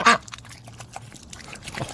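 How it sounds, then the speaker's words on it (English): A duck gives a sharp, close quack at the start, followed by quieter scattered calls and faint background sounds. "Look at the ducks."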